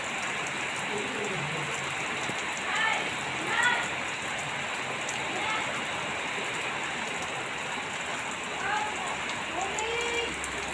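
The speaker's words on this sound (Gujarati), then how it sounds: "ઝાપટા પણ શરૂ થઈ ગયા છે" Unseasonal rain showers patter densely on surfaces in Chhota Udaipur, Gujarat, a constant hiss with faint voices occasionally rising in the background.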